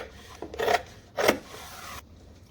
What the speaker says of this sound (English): let's trim our seam allowance.